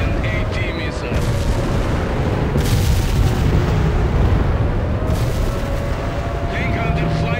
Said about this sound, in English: Launching an AT missile.